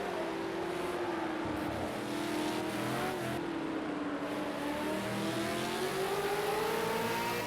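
V8 Supercar race car engines in a racing video game at Silverstone hold a loud, continuous drone, pitch dipping and rising through gear changes and corners, with no talk over it.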